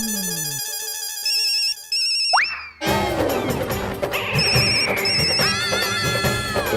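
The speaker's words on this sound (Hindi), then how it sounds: "इतनी रात गए कौन फोन कर रहा है?" A phone rings loudly late at night with a bright electronic melodic ringtone. Bouncy tones repeat over a dramatic musical score, with a short break in the middle.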